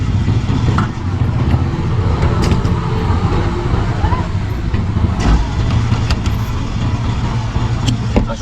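Manual car engine held around 1000 RPM while the clutch is eased to the biting point in first gear, a steady low rumble under continuous road and traffic noise.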